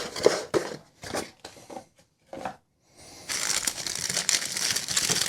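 Cardboard and plastic knife packaging rustles and crinkles as it is fitted back into its box, a few separate close crinkles then a steadier scraping rustle, with no talk.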